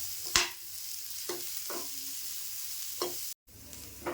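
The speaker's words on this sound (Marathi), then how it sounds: "कांदा भाजून झाला आहे बघा मस्त असा" Onion being dry-roasted in a pan for Maharashtrian shev bhaji, a soft steady sizzle broken by a few sharp scraping stirs of the spatula, close and quiet, with no voices.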